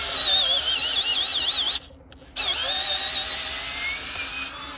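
A drill boring holes in logs for mushroom spawn dowels, a loud high-pitched whine that stops briefly, then resumes and runs steadily, with no talk.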